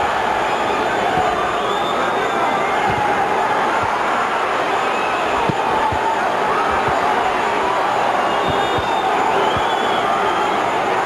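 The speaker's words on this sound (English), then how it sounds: "Tapia to the body and the crowd goes wild." An arena boxing crowd roars continuously at a professional bout, a dense, sustained wall of cheering and shouting with scattered thuds and whistles.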